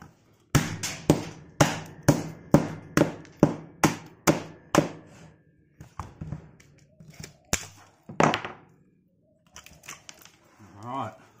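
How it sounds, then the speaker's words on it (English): Repeated hammer blows strike a scrap ballast, knocking off its plastic surrounds to reach the lacquered motor windings: about ten sharp, loud, evenly spaced impacts, then a few scattered knocks and a louder clang, with brief talk in the gaps. "Hammer should fix that."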